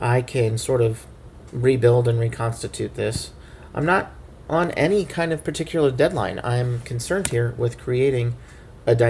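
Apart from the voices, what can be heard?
No everyday noises stand out.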